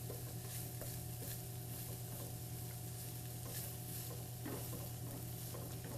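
Red onions sautéing in a pan on the stove, a quiet, even sizzle with a low steady hum under it and the occasional faint tap of a utensil.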